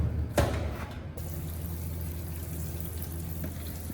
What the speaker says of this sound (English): Next, rinse everything under running water.